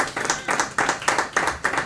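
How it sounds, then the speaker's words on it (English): Applause for a company COO at a corporate fraud-awareness event, a small group clapping in uneven bursts, close and moderately loud, with distinct rhythmic surges across the short stretch. "A round of applause for him."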